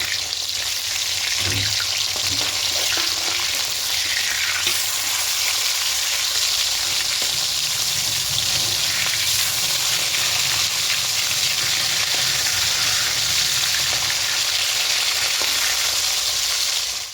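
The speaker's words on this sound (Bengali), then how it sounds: "এবার মাছের ওপাশটা উল্টে দেবো।" Catla fish pieces frying in mustard oil in a kadai after being turned, a loud, dense, unbroken sizzle close by with a brief knock early on and no voices.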